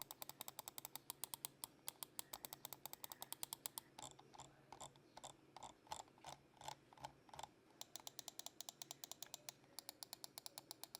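Button clicks from a Kreo Pegasus wireless gaming mouse, a light 58g model, sharp crisp clicks in fast even runs, then a slower uneven stretch of separate presses, then rapid runs again, close and alone.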